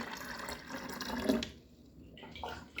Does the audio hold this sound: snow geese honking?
no